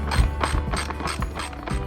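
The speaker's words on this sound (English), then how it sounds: "it is a little rough to try to get a ratchet in there, so you end up having to do a lot of wrenching" Ratchet wrench tightening bolts on a Pentair Super Flo pool pump, a quick series of about six rhythmic metallic clicks close by with no talk.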